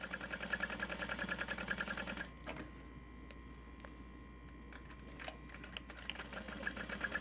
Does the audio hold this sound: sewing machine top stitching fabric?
yes